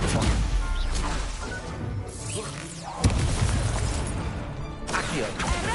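Spell impacts in the Hogwarts Legacy video game, including a Stupefy stun spell, land as a dense run of crashing booms and whooshes amid continuous combat effects, with a sharp hit about midway.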